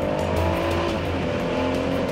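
Gendarmerie car accelerating hard along a road in La Réunion, a steady loud engine drone with rising harmonics and continuous road and wind noise, heard alone without voices.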